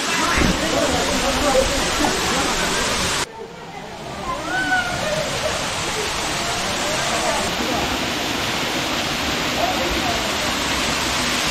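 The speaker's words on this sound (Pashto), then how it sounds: "دا نږدې واټر فال ته راغلو" Spring water and rainwater pour down a mountain waterfall as a loud, steady roar of rushing water, close and continuous, with a brief dip before the roar resumes.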